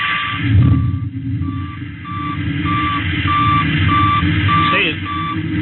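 Rocket engine firing as a radio drama sound effect: a loud, steady roar that holds through the whole stretch, with a repeating beep-like tone pulsing over it.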